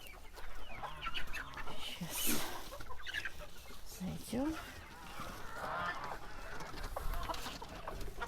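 Hens in a coop, older birds including naked-neck chickens, cluck and squawk in scattered calls close by, with someone briefly speaking over them.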